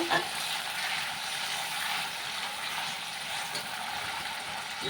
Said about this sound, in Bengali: এটা আমি তেলে দিয়ে মশলাটাকে এখন পুরো ভেজে নেব